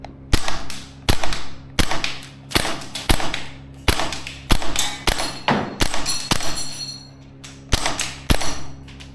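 An SPC-9 gas blowback airsoft rifle fires around a dozen sharp, loud, snapping shots in an uneven rhythm, some in quick pairs, each with a short mechanical clack of the cycling bolt.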